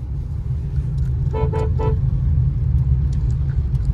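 Car horn sounding three quick honks in a row on a hilly ghat road, heard from inside a vehicle over a steady low engine and road rumble.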